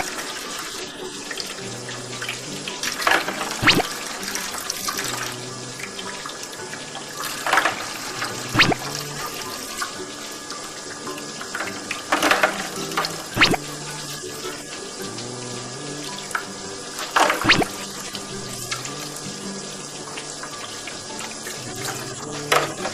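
Radish, red chili and brinjal are rinsed under a running tap. The steady splashing flow is broken by occasional louder clatters and sloshes of vegetables being handled in the water.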